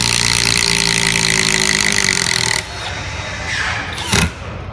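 A cordless impact driver, comparing Milwaukee M12 Fuel and Makita models, runs screws into a 6x6 wooden post: a loud, steady mechanical whir for about two and a half seconds, then quieter handling noise and a brief burst near the end.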